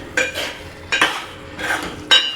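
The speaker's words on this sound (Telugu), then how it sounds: "ఇందులో కొంచెం సాల్ట్ బాగా కలిపేసుకోవాలి" A spoon stirs salt into a chicken curry made with coconut milk, scraping and clinking against the pot in four short bursts spaced across the moment, close and moderately loud, with no talking.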